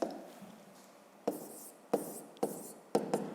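Pen writing a math answer on paper, soft scratching strokes with several sharp taps as digits are marked, quiet and close with no speech.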